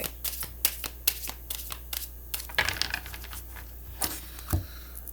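A deck of cards being shuffled up close, with a rapid run of crisp riffling flicks followed by a few softer shuffles and taps, no voices.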